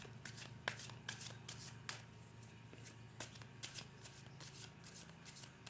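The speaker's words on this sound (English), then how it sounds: "I'll overlay these cards now with the second deck" Tarot cards from a second deck slap and riffle down one after another, crisp irregular snaps and slides close by over a soft steady hum, with no talking.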